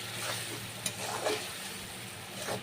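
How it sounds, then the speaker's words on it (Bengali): Salt, turmeric, cumin and black pepper sizzle in a hot pan while being stirred, a steady close frying hiss with a few brief scraping accents of the spoon, no talking. "মশলাগুলো এবার ভালো করে কষিয়ে নিতে হবে।"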